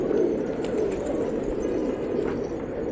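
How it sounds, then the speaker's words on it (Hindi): A loft of around 250 desi pigeons of mixed fancy breeds keeps up a dense, continuous low cooing and murmuring, a steady close-up flock drone with no talk over it. "250 कबूतर हैं भाई"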